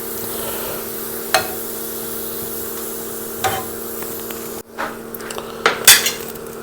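Metal spoon scraping and clinking against a pan while fried golden-brown onions are scooped out of hot ghee, a few sharp clanks over a steady low background hum, with a brief louder rattle of utensils near the end.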